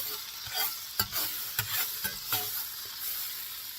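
Butter melts in a cast iron skillet over medium heat, giving a light continuous sizzle broken by several sharp clicks and scrapes from a utensil moving in the pan.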